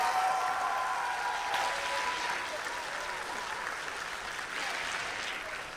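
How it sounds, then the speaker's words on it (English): Applause for the alumni winners at a gala awards ceremony, a sustained, moderately distant wash of clapping that holds steady and slowly eases, with faint tonal sounds early on. "Let's have one more round of applause for the alumni winners"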